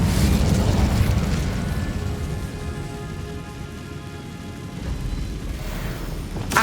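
The Incendio fire spell cast in the video game Hogwarts Legacy: a loud fiery burst that opens the moment, then settles into a crackling, rushing roar that slowly fades before a small flare near the end.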